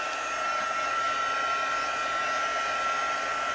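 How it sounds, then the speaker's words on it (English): A handheld heat gun drying ink on a crafting surface gives a loud, steady, close whoosh of blowing air with a constant high whine running the whole time, and no voices. "now I'm going to take my heat gun and I'm going to dry this, so it's going to be a little loud"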